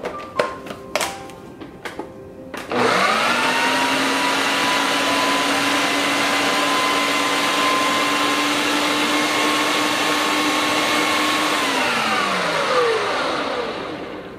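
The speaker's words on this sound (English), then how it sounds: "And then we're gonna blend this together." Blender whirring as it purees salsa laced with black truffle hot sauce: a few clicks and taps, then a loud, steady motor drone that holds for about nine seconds before winding down.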